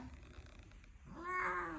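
A female house cat cries out loudly, a single drawn-out, strained yowl in the second half that starts after a stretch of quiet room noise, close and alone.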